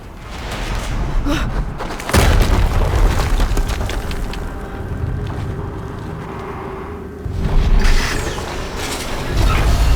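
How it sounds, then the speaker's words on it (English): Explosions in the video game Horizon Zero Dawn: heavy booming blasts that strike suddenly, near and loud, around two and eight seconds, with mechanical rumble between them. "Another explosion."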